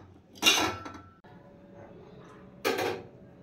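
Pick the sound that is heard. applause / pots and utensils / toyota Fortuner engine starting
pots and utensils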